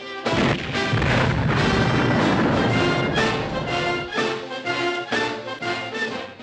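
Artillery booms in a military scene fire repeatedly over a dense, loud wash of battle noise and music, the blasts coming in irregular bursts.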